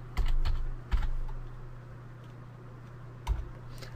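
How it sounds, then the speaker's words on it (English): Typing on a computer keyboard, entering a disk-check command, with short bursts of close clicky keystrokes separated by pauses over a steady low electrical hum. "So what I'm going to do is type Chkdsk"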